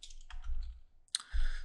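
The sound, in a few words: computer keyboard typing a file name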